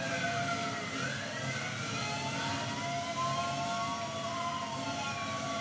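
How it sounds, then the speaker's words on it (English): A steady, droning car engine in Paradise City Online sounding about to stall hums on with wavering pitch that rises and dips, loud and continuous throughout. "It sounds like the engine's about to stall."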